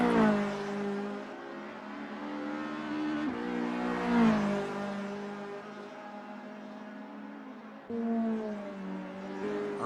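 Engine of a VW GTI race car in the Assetto Corsa sim racing game, revving up and down through gear changes with a sharp drop and restart near the end, loud and close with no talk.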